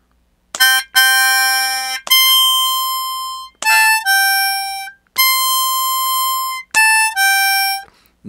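Harmonica playing a phrase from a song, hole 7 then draw 6 and blow 6, in short sustained reedy notes grouped in quick repeating pairs, loud and close with no voices.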